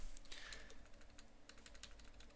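Soft clicks of a computer keyboard tapped during Photoshop work, a few quiet key presses in a near-silent room.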